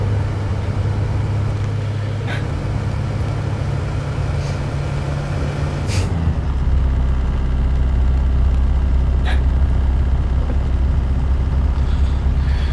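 A video-game truck engine drones loud and continuous, its low hum stepping down to a deeper, heavier pitch about halfway through, with a few faint knocks over the top.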